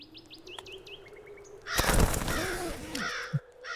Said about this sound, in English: Birds will jump scare you constantly in this game, by the way.